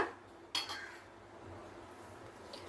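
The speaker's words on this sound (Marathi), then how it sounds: "आता हे पोहे मी थोडे मॅश करून घेते" Soaked poha being mashed in a bowl, a sharp utensil clink against the bowl followed by soft scraping and squishing, close and quiet.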